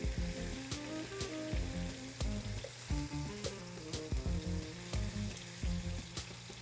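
Pork sizzles steadily in a hot pan for a stew, with repeated scraping and stirring strokes knocking through the frying, close and fairly loud without any voices.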